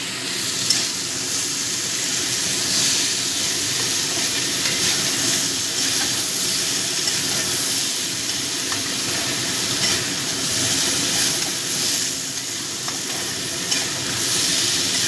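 Steady, continuous sizzling of vegetables frying with turmeric in a pan over low gas flame, with faint stirring noises throughout and no talking.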